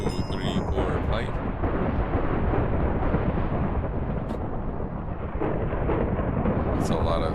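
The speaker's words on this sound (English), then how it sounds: "It's a lot of storms in game." Heavy rolling thunder and storm rumble fill the whole stretch in a GregTech New Horizons Minecraft world, loud and continuous with a dense low roar.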